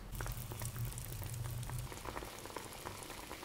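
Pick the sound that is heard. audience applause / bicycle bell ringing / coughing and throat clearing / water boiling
water boiling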